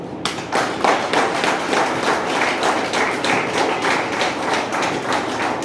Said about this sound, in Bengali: তাদের জন্য হাততালি বাজানো উচিত।